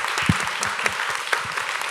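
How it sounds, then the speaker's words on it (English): Audience giving a warm round of applause for panelists at an arts and disability forum, a continuous room-filling patter of many hands with a few sharper claps standing out, no talking over it. "can we get a nice warm round of applause for our nice panelists here?"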